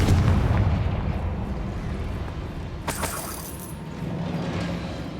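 A Confringo blasting spell goes off in Hogwarts Legacy: a loud, continuous rumbling blast with a sharper crack-like burst about midway, heavy low-end boom sustained throughout.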